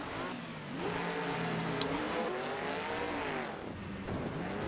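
Engines of historic race cars roar together at the Laguna Seca start in a racing video game, a dense rising drone of revving motors that holds loud and constant throughout.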